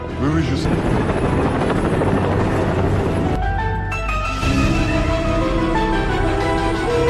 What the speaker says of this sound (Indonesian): akhirnya Elsa yang ditemani Laksamana menaiki helikopter dan menjemput Kovac serta Tik-Tak